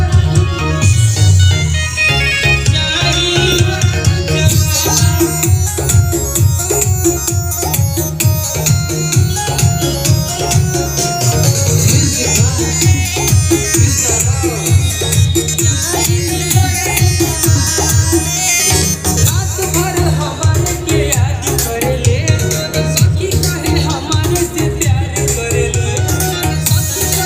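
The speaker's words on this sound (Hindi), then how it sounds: "ये है सॉन्ग, इसको हम लोग स्टार्टिंग से प्ले करते हैं।" A Hindi chamar song recording plays back loudly in a studio, a dense full mix of steady beat, bass and melody running continuously without pause.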